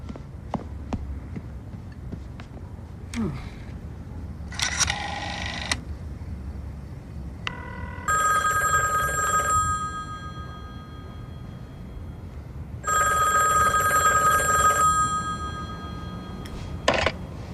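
A telephone rings on an outgoing call, with two long electronic ring tones separated by a pause, close and clear, plus a few brief clicks and knocks around them.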